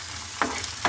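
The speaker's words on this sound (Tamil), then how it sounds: "அதனால் ஒரு 4 மிளகாய் எக்ஸ்ட்ராவே போட்டுக்கலாம். போட்டு வதக்குங்க." Chilies sizzle in hot oil for radish chutney, a steady close crackle with two short stirring scrapes.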